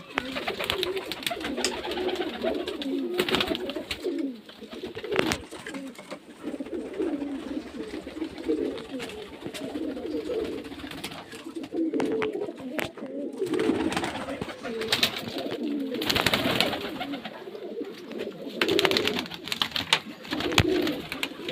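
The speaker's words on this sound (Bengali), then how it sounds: "এই যে সব মুর্শিদাবাদের গিরিবাজ লাইনের পায়রা আছে" Giribaz-line pigeons from Murshidabad coo steadily in a loft of sale birds, many overlapping low throaty calls running continuously close to the listener without pause.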